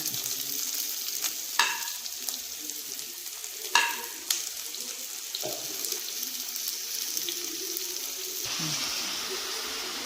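Onions go into a hot pan for a country chicken roast and fry with a bright, continuous sizzle, with a couple of sharper clatters from stirring, close by.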